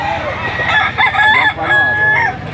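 A rooster crows loudly and close by, one long drawn-out call with overlapping clucks and farmyard chatter.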